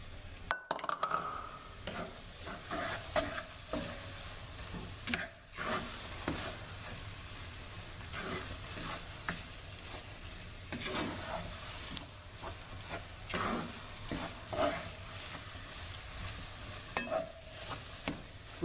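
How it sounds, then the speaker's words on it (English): Garlic sizzles in a pan for shrimp étouffée, a soft steady frying hiss with a utensil repeatedly stirring and clinking against the pan throughout. "I'm going to go ahead with a little bit of the garlic."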